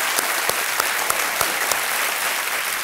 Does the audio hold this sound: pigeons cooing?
no